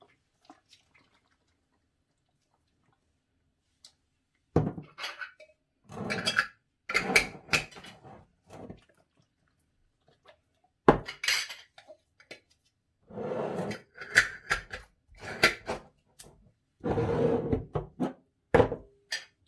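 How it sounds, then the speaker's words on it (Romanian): Glass jars of quince compote get sealed with metal lids, heard as a series of sharp clinks, scrapes and twisting clatters in close bursts separated by quiet pauses. "Voi capsa borcanele cu capac foarte strâns."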